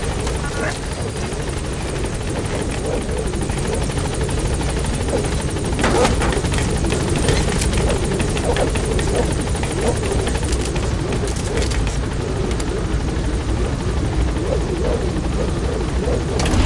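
A helicopter in a video game hovers and flies near a landing zone, a loud continuous rotor and engine roar with a rhythmic chop that stays dense and steady throughout.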